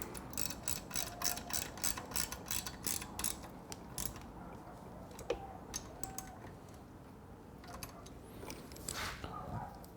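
A fastener tightened on a Triumph Bonneville motorcycle during a turn signal kit install gives quick, quiet ratcheting clicks in uneven bursts, close up, with soft workshop background noise.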